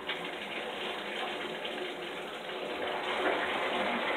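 Water runs from a tap to fill a bowl for a dog, a steady close-up hiss and gush that holds evenly throughout and swells slightly toward the end.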